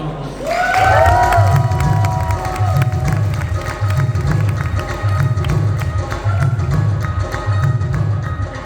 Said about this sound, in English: So can we give all of us a round of applause?